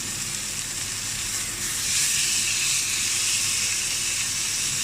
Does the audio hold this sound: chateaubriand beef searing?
yes